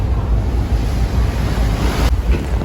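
Strong wind buffets the microphone over steady rushing sea waves aboard a ferry crossing open water between Merak and Bakauheni in rough weather, a loud continuous roar with no speech.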